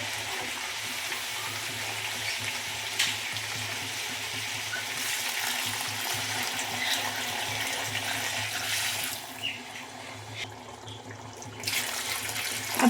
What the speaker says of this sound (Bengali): এবার দিয়ে দেবো গরম জল